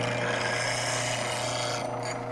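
A woodturning gouge is sharpened on a sharpener with a continuous, close, raspy grinding hiss that fades slightly at the end.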